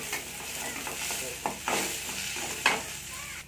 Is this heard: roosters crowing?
no